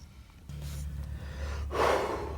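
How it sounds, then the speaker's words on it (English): A single sharp, close gasp of air after running back in from a shop, with a short burst of breath near the end and a steady low hum underneath. "excuse my gasp of air"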